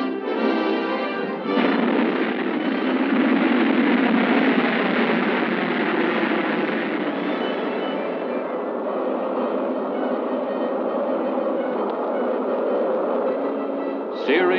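A Corporal missile launches at the Oro Grande range with a loud, sustained roaring rumble that stays steady for many seconds. Its sound is heavily band-limited like an old film soundtrack.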